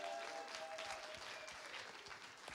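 An audience at a live Fighting Fantasy Fest event applauds, heard as steady, continuous clapping from many hands, faint and distant, with no talk over it.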